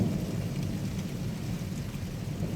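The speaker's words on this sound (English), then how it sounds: "This particular storm was this week, just a couple of days ago." Heavy night thunderstorm with rain and thunder during a muggy spell, a dense, steady low rumble and hiss of rainfall that holds unbroken for the whole short stretch, with no voices.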